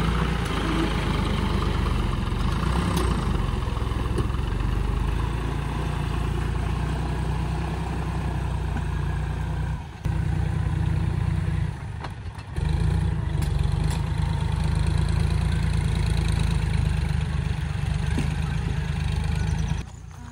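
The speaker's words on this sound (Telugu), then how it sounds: "కల్టివేటర్ ట్రాక్టర్ని పిలిపించాం. ట్రాక్టర్ దున్నుతుంది." A tractor pulling a cultivator ploughs a farm field, its diesel engine droning loud and steady throughout with a few brief dips as the load changes.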